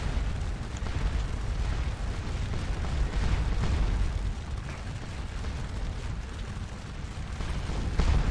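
Artillery bombardment in the Napoleonic battle game Scourge of War Waterloo, a continuous rumbling roar of booming cannon fire with no clear separation between shots, steady and dense throughout with a stronger burst at the very end.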